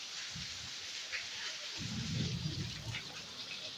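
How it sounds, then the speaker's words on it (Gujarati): Heavy rain hisses steadily, and partway through a low thunder rumble rolls in and lingers beneath the downpour. "ફૂલ વરસાદ અતિ ભારે વરસાદ"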